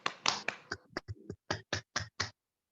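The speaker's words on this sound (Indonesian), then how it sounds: "Kita berikan tepuk tangan untuk Nita." In a primary school classroom, a brief bit of voice gives way to about eight sharp, evenly spaced claps that applaud a student, close and distinct, before the room falls quiet.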